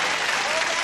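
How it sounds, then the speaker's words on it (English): A studio audience applauding on a 1980 television game show, with loud, dense clapping filling the whole brief moment. "Applause."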